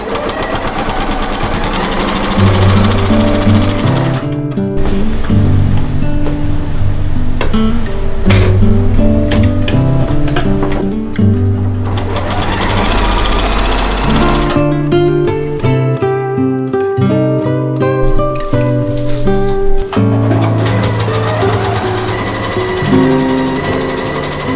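A regular home sewing machine doing machine quilting, running in steady mechanical bursts with brief pauses between stitching runs, close and continuous with no speech.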